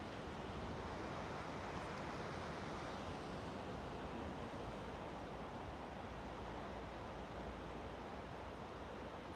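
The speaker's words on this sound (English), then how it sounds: "Those ocean waves that are rolling in." Ocean waves rolling onto a beach on an oceanfront morning, a steady, soft broadband wash with wind noise, faint and continuous with no voices.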